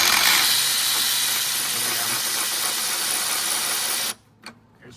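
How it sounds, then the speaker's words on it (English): A power tool runs continuously with a loud, hissing whir while removing engine bolts on a 2016 Chevy Malibu 1.5T, close up, then cuts off abruptly followed by a couple of faint clicks. "Now we'll just remove these bolts."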